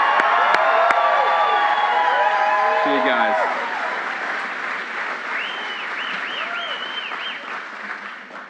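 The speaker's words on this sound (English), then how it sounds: "So let's give a round of applause" A crowd at a political speech applauds and cheers in a loud, steady wash that eases slightly partway through, with a voice speaking briefly over it.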